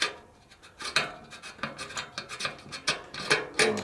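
Rivnut tool being released and unscrewed, a rhythmic series of close scraping, ratcheting rasps repeating about every few tenths of a second.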